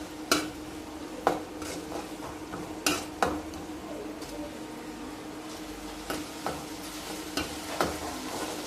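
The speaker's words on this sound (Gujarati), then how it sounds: "એકદમ તેલ છૂટું પડી જાય ત્યાં સુધી હલાવવાની એટલે ચટણી તૈયાર થઈ જાય આપણી" Green chili, garlic and coriander chutney stirred in an oiled pan: a spoon scrapes and taps in scattered strokes over a gentle background sizzle, close by and moderately quiet.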